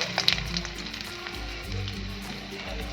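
Chopped ginger sizzles and fries steadily in a pan with roasted peanuts, a close, continuous crackle with a few sharper pops early on and no talking.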